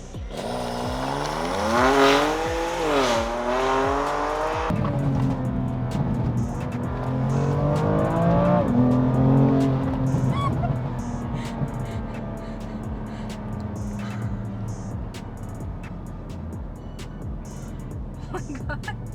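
A BMW G87 M2 in Sports Plus mode with its gears on the most aggressive setting, accelerating hard: loud engine revving that climbs through rising, stepping gear pulls, then a sustained roar that gradually fades.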